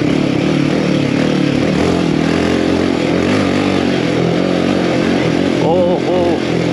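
A Royal Enfield Himalayan 450 Rally motorcycle with performance upgrades rides a dirt trail, its engine droning steadily throughout and rising and falling with the throttle, close and loud, under a rider's voice.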